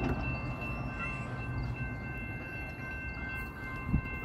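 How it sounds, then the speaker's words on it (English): A Metrolink commuter train passes a railroad crossing: a loud, steady rumble of wheels and cars rolling by close up, with faint crossing-bell tones ringing over it and a brief thump near the end. "We got a train."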